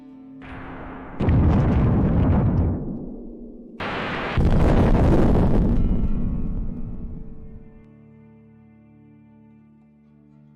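A HIMARS missile strikes a Russian military convoy: two heavy, close explosions land a few seconds apart, each a broad roaring blast that decays into a low rumble and then fades to quiet.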